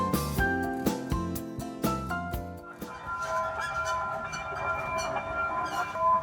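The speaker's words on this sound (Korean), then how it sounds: "이게 항산공원을 두 배로 즐길 수 있는 가족 미니 기차입니다." Family mini train ride in a riverside park along the Nakdong River, opening with rhythmic metallic clacks and chimes at a steady beat, then settling into a softer continuous tonal ringing and rolling hum.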